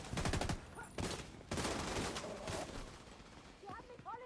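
Gunfire aimed at the player in The Division 2, rapid automatic bursts of shots coming in clusters, fairly close and moderately loud, with a voice heard briefly near the end.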